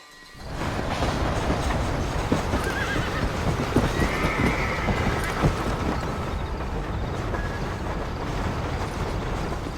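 A horse gallops in the Red Dead Redemption video game, its hoofbeats a steady, close clip-clop over a dense, busy backdrop, with whinnies rising above the rhythm.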